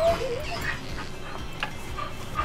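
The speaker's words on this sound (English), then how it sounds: "the dogs are all making noises" Several dogs in the room, heard during a Pokémon Sword game session, make faint whimpering and yipping noises with an occasional soft bark, scattered and indistinct under steady background sound with no clear speech.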